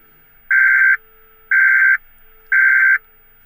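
Three loud electronic alarm beeps in a video game city, each about half a second long, sounding at an even steady pace with silence in between.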